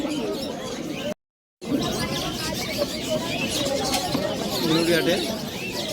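Fancy pigeons, including lakka females, at Uluberia pet market, cooing amid a busy crowd murmur with people talking. The sound cuts out completely for a moment near the start.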